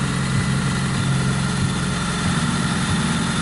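A car's engine idles steadily indoors after a wash, a low continuous rumble with an even hum that holds alone and unchanged throughout.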